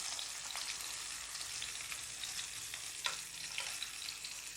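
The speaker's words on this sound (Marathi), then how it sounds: "मंद आचेवरती आपल्याला हे मासे फ्राय करून घ्यायचे आहेत" Chilapi fish frying in a pan on a low flame, a continuous soft hiss and crackle of oil with scattered small pops and spatters, fairly quiet and steady, with no voices.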